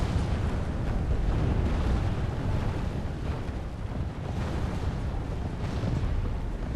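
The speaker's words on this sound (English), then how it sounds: "The mortars are not really able to do that much damage at this point." Mortars keep up a constant barrage in the Medieval II strategy game, a continuous heavy rumbling roar of distant blasts blending into one another, loud and unbroken, with no speech.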